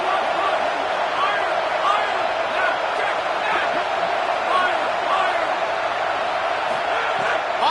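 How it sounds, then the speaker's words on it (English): A home crowd at a football game roars steadily during a third-down defensive stand, the dense, sustained noise filling the stadium while a commentator talks over it. "Here comes this home crowd as the defense tries to get off the field on 3rd down"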